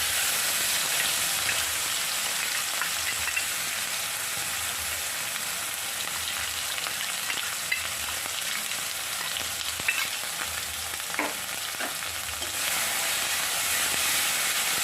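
Hot oil sizzles loudly and continuously as a tempering of spices fries, a close, steady crackling hiss with occasional stirring sounds.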